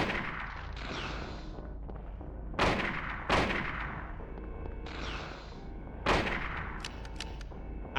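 Rifle gunfire in the video game Silent Hill, several loud booming shots spaced a second or two apart, each trailing into a long rumbling decay over steady background din.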